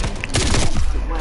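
Light machine gun fire in a Call of Duty zombies match, a brief loud burst of rapid shots close by.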